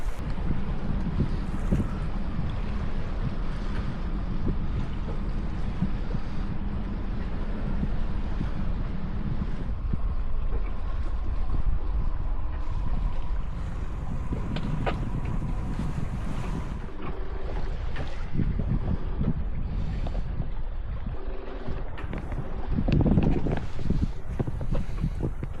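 A Sun Odyssey 410 sailboat runs at 7 knots with the tide under its head sail only, steady wind rushing across the microphone over constant hiss of water along the hull, with no talk.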